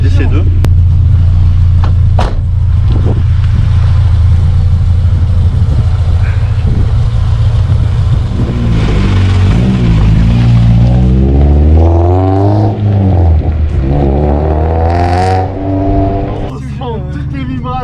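A Honda Integra Type R DC2 with VTEC, heard from inside while driving: a loud, steady engine drone that gives way to rising and falling revs through repeated acceleration and gear changes, with a voice talking over it.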